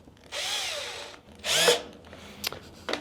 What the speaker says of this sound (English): See if any of these drill bits are sharp.